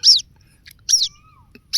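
A baby bird separated from its flock chirps in three loud, high, close chirps at a steady interval, with quieter faint chirps between them.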